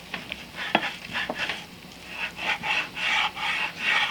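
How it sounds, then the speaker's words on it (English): A knife saws back and forth through steak on a board, producing a series of soft rasping strokes that grow slightly longer and steadier, close and quiet. "And you're going to cut the steak"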